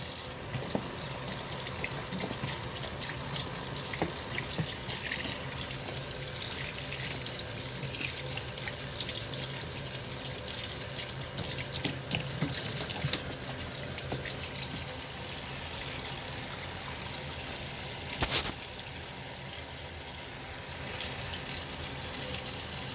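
Water runs steadily from a tap into a Kuppet 26 lb portable washing machine, a continuous close hiss and splash lasting over twenty seconds with a brief louder burst near the end and no talk.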